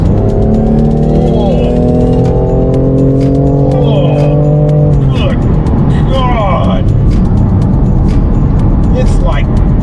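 A BMW M4 Competition accelerates hard onto a freeway, its engine rising in pitch through the gear, then dropping with a shift before climbing again, loud and close inside the cabin with someone talking over it.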